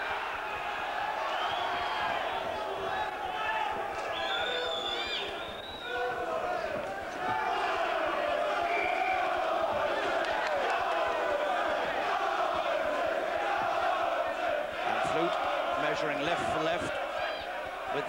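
A boxing crowd sings loudly and continuously during a bout between Neville Brown and Andy Flute, a dense roar of voices filling the hall throughout, with a commentator talking over it.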